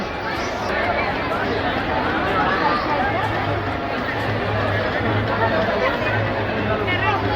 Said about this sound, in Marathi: फुल गर्दीमधून आपण चाललेलो आहेत